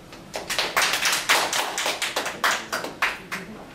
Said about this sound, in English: let's have a round of applause for Mr. Aaron Bowman